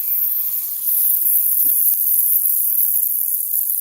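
A spray can hisses steadily while cooking fried chicken, a constant high airy spray close by with a few faint clicks and knocks in the background.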